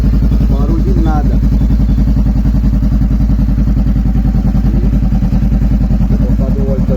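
A 2014 Honda CB500F motorcycle engine idles cold after an oil change, a loud, steady, close rhythmic putter with fast regular pulses throughout, while someone talks over it.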